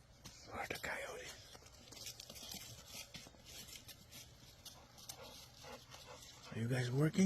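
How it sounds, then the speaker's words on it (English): Livestock guardian dogs near a chicken flock give a few faint, distant barks and whimpers while someone talks quietly and close, with a louder rustle or vocal burst at the end. "What's all this barking?"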